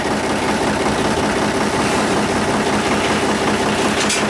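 An old tractor engine idles steadily and loudly close by, a dense continuous chugging rumble with no talking.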